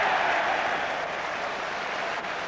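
A Five Nations rugby stadium crowd at Ireland v England roars steadily as Rob Andrew kicks, a dense, sustained wash of distant cheering and noise with no clear voices.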